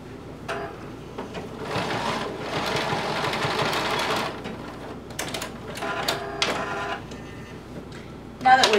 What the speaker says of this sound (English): You're going to sew your hem all the way around.